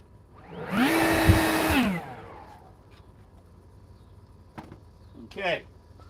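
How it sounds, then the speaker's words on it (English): An old air blower whooshes on for about a second, rising and falling in a loud rushing burst, followed by quieter scattered clicks and a brief second whir as debris is cleared. "Let me get the old blower."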